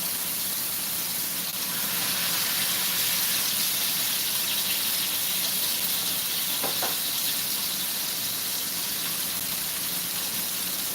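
Homemade ground pork sausage seasoned with sage sizzling in a pan at breakfast, a steady broad hiss and crackle that runs unbroken throughout, fairly quiet and heard alone.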